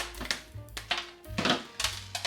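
A dried loofah has its end cut off, giving a string of short, crisp crunching snips and clicks at close range in an otherwise quiet space.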